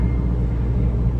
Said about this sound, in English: Yeah, them planes is really rolling today, y'all.